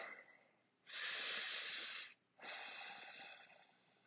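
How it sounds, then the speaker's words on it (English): Slow, deep breaths drawn during a yoga flow, a long steady inhale-like rush followed by a short pause and a second sustained breath, close and fairly quiet with no talking. "A few deep breaths."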